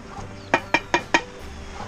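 Four quick, evenly spaced clucks from chickens close by, sharp and clear against a quiet background.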